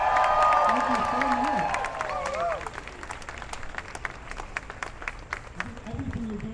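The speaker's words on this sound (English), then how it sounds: "Let's give her a big cheer." A crowd claps and cheers to welcome Little Amal, the giant puppet, on a University of Michigan campus walking tour. Loud applause with whoops sits under a woman's speech at first, then tapers into scattered claps and cheers.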